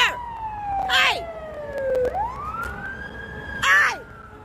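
An approaching ambulance siren wails in long, slow tonal sweeps, gliding down and then rising again, loud and fairly close, with a couple of brief shouted voice bursts breaking over it.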